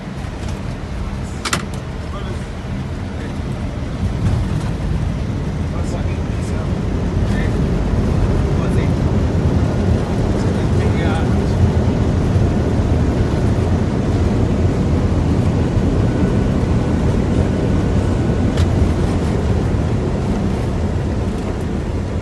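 Airliner touchdown on a runway, with steady loud broadband engine and wind roar throughout and a slight swell in level about five seconds in, no distinct impacts.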